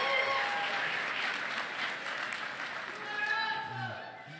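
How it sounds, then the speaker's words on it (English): Audience applause fills a large hall at a hybrid disability summit, with steady broad clapping from a sizeable crowd holding at a fairly even level throughout. "give yourselves a round of applause"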